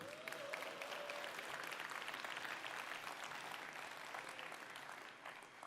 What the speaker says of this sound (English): Don't applaud me.